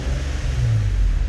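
Nissan VQ engine running on E85 fuel with no tune, giving a steady, loud low rumble close by as it starts to rev, with no talking.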